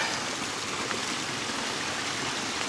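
Steady rushing water overflowing and streaming after a storm, a continuous broadband wash heard close with no voices.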